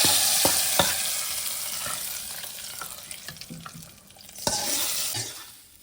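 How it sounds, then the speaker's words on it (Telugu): A hot tempering of onion and spices poured into cooked dal, giving a loud, close, hissing sizzle from the start that gradually eases, with a few sharp clicks and spoon knocks, and a brief swell near the end. "ఇదిగో పప్పులో తాలింపు వేస్తున్నాను."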